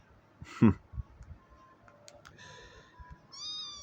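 A cat gives a short, clear meow in an RPG Maker Fes game, followed by a few faint game-like sound effects and soft tones in an otherwise quiet manor scene.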